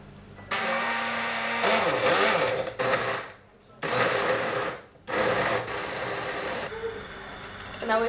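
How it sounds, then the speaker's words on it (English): A blender whirs loudly in several bursts, blending roasted vegetables for barbacoa, its motor pitch wavering as the load shifts, with short pauses between pulses. "the next step is I have to blend everything. So I'm gonna put these in the"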